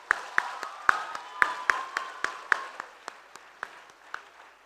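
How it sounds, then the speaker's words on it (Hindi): Scattered audience clapping welcoming Lok Sabha Speaker Om Birla at a youth interaction event, sparse individual claps in an irregular rhythm, fairly near and thinning out toward the end. "तालियों से अभिनंदन कीजिए।"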